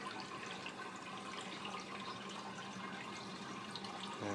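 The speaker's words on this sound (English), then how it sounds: "that's the output port where all the water is coming out of the pump" A pump pushes water through a dual-loop PC water cooling system, giving a constant soft rushing and trickling flow. The sound is faint and steady throughout, with no voices.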